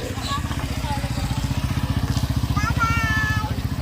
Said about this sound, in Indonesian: Motor, motor.